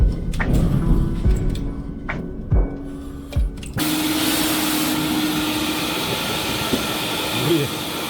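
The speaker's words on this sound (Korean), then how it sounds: "카펫 청소기로 이제 땡겨야 확실하게 좀 땡겨지겠죠?" A loud, steady suction roar of a carpet cleaner extracting water from flooded carpet starts abruptly partway through, after a stretch of quieter scattered knocks and clatter, with gurgling watery hiss under the machine noise.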